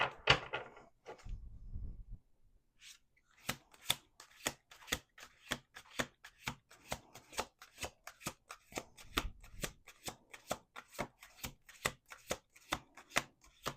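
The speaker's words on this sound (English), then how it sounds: "We're going to do 2 more shuffles" Tarot cards are shuffled by hand in a long run of crisp, rapid riffling flicks after a brief rustle, close and quiet with no talking.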